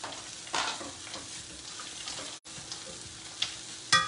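A pile of garlic fries in a skillet with a close, steady sizzle, with a few louder bursts of crackle and stirring and one brief gap.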